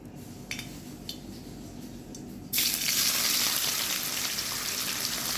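Morola fish frying in a kadai burst into a loud, hissing sizzle partway through, after a quieter start with light clinks of utensils, then keep crackling steadily up close with no talking.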